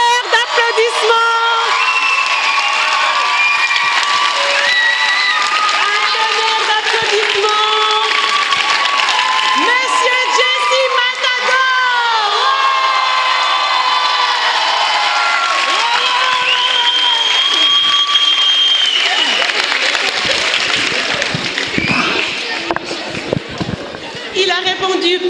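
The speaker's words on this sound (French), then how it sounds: "La tonnerre d'applaudissements!" A crowd of children at a Fondation Lubamba open-day event bursts into loud applause and excited shouting and cheering that continues throughout, with whoops and voices rising over the clapping before it thins toward the end.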